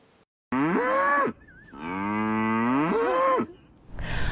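Dairy cattle at the UC Davis dairy facility give two long, loud, drawn-out moos in close succession, with a short quiet gap between them.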